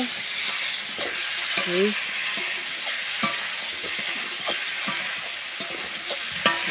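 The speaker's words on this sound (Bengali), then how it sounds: "এই চিংড়ি কোটা ঢেলে দিলাম, ঢেলে দিয়ে আবার নেড়ে নেব।" Chopped shrimp are tipped into a sizzling cauliflower curry and stirred, a continuous frying hiss with scattered ladle clicks and scrapes against the pan and a brief voice early on.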